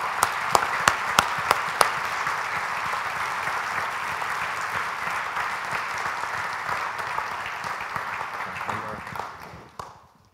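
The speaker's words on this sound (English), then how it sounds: "Let's give them a big round of applause." An audience claps at an energy efficiency and renewable energy recognition event: a few sharp, distinct claps open into sustained, even applause that fades out near the end.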